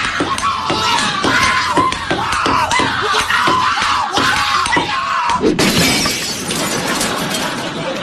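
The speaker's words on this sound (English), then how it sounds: "You have smashed the window of transparency." A glass window smashes in a loud, dense crash of shattering glass that carries on for several seconds and ends in a sharp burst of breaking shards.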